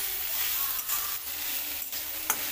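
Kharda, a chili-garlic thecha with salt, fries in hot oil with a continuous soft sizzle and hiss and a few faint stirring scrapes, and nobody speaks.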